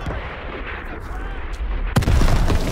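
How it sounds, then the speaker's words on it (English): Heavy artillery bombardment in a World War II Call of Duty level: dense rumbling blasts and booming impacts, loud and close, with a sharp heavier explosion near the end and a shouted voice mixed in. "Artillery! It's a trap! Keep moving!"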